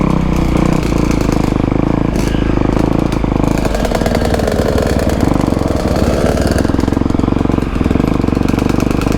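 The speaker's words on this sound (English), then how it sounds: "Alex has got that two-stroke." A two-stroke dirt bike, on a tight trail ride alongside a KX250F and RM125, roars close and loud with a rough, buzzing engine note that shifts in pitch as the throttle changes.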